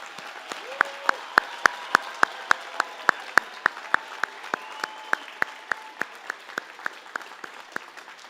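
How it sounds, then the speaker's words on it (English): Applause from a commencement audience honoring a graduating class, with scattered crisp claps standing out over a broad wash of clapping, moderately distant, while a voice speaks briefly underneath. "Please join me in congratulating them together with a round of big applause."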